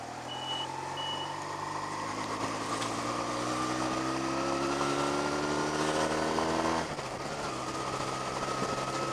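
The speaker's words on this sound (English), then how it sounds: "there's a bit more engine noise being reflected back from it" A steady engine drone with rising, sweeping harmonic tones fills the clip as it revs up, then drops abruptly near the end.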